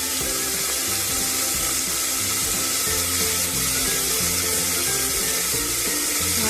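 Green peas sizzle steadily in hot oil inside a pressure cooker with curry leaves, cloves and pepper, a continuous close hiss of frying with faint stirring clatter and no voices.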